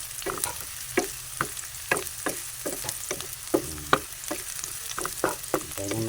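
Onions and garlic sautéing in a pan until brown, a steady sizzle punctuated by regular scraping stirs from a utensil roughly twice a second, close and moderately quiet with no talk.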